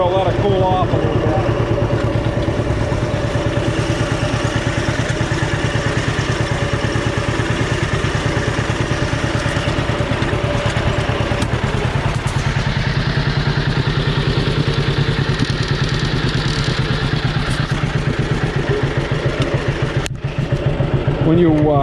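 A John Deere B tractor engine idles close by after a work session, its steady low two-cylinder putt-putt loping on at an even rhythm with some clatter and occasional thumps throughout.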